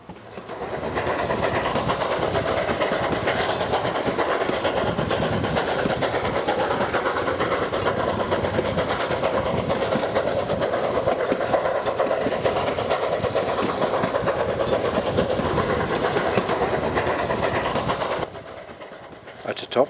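The Durango & Silverton narrow gauge railroad train runs steadily along the line between Durango and Silverton, a loud continuous rumble with wheel clatter and engine noise that drops off abruptly near the end.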